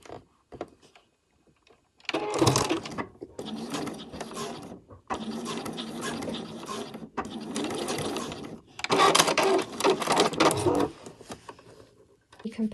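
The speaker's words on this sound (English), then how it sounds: "So I'll just sew those two ends together." A sewing machine runs in several bursts to join the two elastic ends inside a fabric scrunchie, with brief pauses between runs and a few soft handling clicks at the start.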